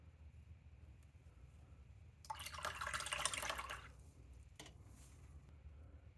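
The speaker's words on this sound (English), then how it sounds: "as I wet my brush and kind of feather it out" A paintbrush is swished in water, a soft watery splash and swirl lasting about a second and a half, faint and close, with a brief tap after against a quiet background.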